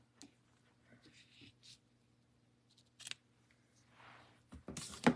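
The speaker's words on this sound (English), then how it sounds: "So let's trim our ends." Paper ends being trimmed for a handmade card: a few quiet, crisp cutting snips and slides, the sharpest near the end, in a quiet room with soft talk.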